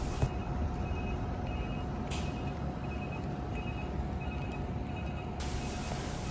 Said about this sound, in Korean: 제 핸폰 알람 소리가 계속 울립니다.